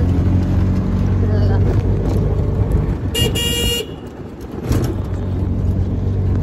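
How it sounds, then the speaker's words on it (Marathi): Auto rickshaw engine running while riding with four passengers aboard, a steady motor drone with road noise, a passing horn toot and people talking over it. "सगळं बसलो आम्ही 4 जणी एका रिक्षेत"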